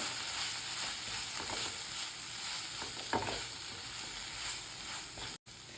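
Coriander powder and garam masala being stirred into a sizzling chicken and liver roast in a pan, a steady quiet frying hiss with a few soft scrapes of the spoon, no talking.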